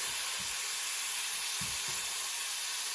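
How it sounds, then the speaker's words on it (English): Pork browning in a hot pan for a stir fry, a steady bright sizzle and hiss with a few soft stirring knocks underneath. "we'll just brown it"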